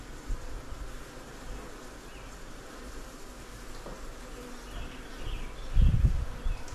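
Bees hum and buzz continuously during a beekeeping cutout and removal, a soft, steady swarm drone close by, with brief low thumps of handling near the end.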